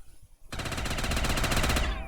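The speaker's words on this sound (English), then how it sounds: "Oh god, this gun's loud, isn't it?" Rapid, loud automatic gunfire from a Mauser in a zombies video game, a fast burst of shots lasting over a second that rings out alone after a brief quiet moment.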